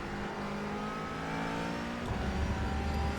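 A McLaren 570S GT4 race car in iRacing drones steadily on the throttle from an exterior view, its exhaust burbling, then revs harder with a deeper, louder rasp near the end.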